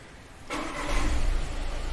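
A Volkswagen Taigun car, previously suffering starting trouble, cranks and fires up, its engine catching abruptly and settling into a steady, rising rumble close by, with no talk over it.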